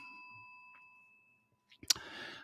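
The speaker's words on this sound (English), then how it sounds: "You get a bell for that." A single bright bell ding rings out after a sustained tone fades, sharp and close, followed by a short ringing tail with faint background murmur.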